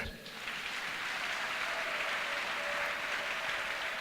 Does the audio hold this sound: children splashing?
no